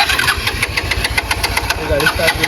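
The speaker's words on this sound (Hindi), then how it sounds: "गाड़ी स्टार्ट करता हूँ।" A car engine cranks on a roadside at night in quick rhythmic pulses, loud and close, churning steadily without clearly catching.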